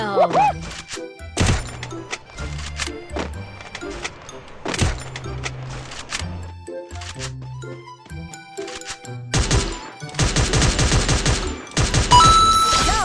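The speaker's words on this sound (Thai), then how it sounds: "เฮ้ยมีคนยิงกันนะครับ" Gunfire in the Free Fire mobile shooter game: loud bursts of automatic fire and single shots with sharp impact thwacks, growing into dense, sustained shooting near the end.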